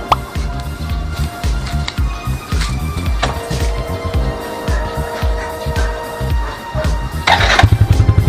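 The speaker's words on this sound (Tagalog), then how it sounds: "So start natin yung motor." A Yamaha Sight motorcycle engine cranks and starts, then settles into a loud, close, steady putter with rapid pulsing revs toward the end.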